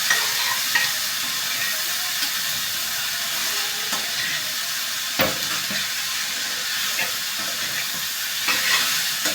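Cabbage and tomato frying in a pan on a high gas flame, with a steady sizzling hiss throughout and occasional soft scrapes of a spoon stirring and mixing.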